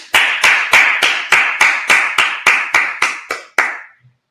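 A congregation at a Sabbath service claps in unison, about a dozen sharp, evenly spaced claps that slow slightly and stop, loud and close with no talking.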